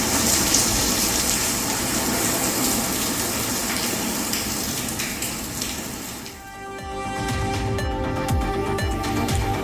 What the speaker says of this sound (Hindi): हल्की फुल्की बारिश देखने को मिल रही है।